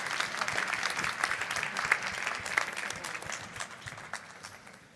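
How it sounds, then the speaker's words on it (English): Steady audience applause at a UNESCO forum against racism and discrimination as the panel moderator walks to her seat, a broad, moderately loud wash of clapping that gradually fades toward the end. "Please give her a rolling applause until she reaches her seat right here."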